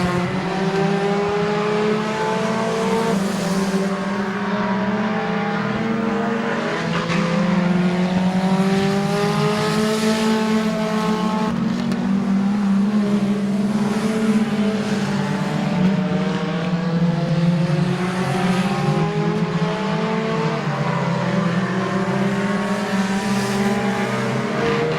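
Race cars circle Midvale Speedway in a loud, unbroken engine drone, several motors overlapping as their pitch rises and falls through laps, with no talk heard.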